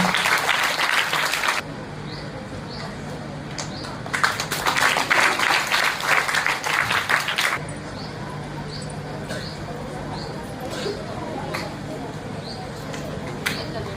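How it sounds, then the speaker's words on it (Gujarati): A crowd at a school farewell ceremony claps in two loud bursts of applause, separated and followed by a quieter stretch of room noise with faint voices in the background. "આપણે તાળીઓથી વધાવીએ"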